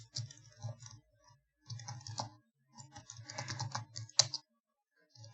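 Rapid computer keyboard typing while code is written, bursts of dense clicking keystrokes separated by short pauses, close and fairly quiet with no talking.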